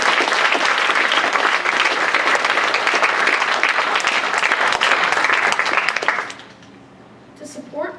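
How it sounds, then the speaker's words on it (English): Loud, dense applause from a school assembly audience fills the room for about six seconds, then drops off sharply, leaving a few scattered claps and low murmurs. "Let's give him a round of applause for his"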